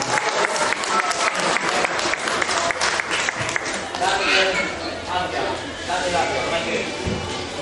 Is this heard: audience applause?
yes